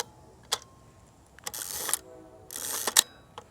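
A medium format film camera's shutter fires at close range, giving a few sharp mechanical clicks and a longer whirring wind in a quiet room, with no voices.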